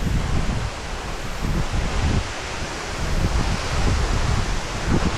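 Thalaiyar Falls, a tall waterfall near Kodaikanal in Tamil Nadu, roars as a continuous broadband wash of rushing water from close by, mixed with wind buffeting the microphone. No voices.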